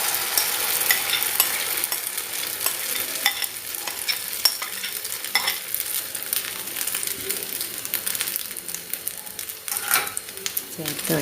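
Egg and potato casserole mixture sizzling and frying in a pan over a low flame, a steady close crackle with occasional stirring scrapes throughout, no talking.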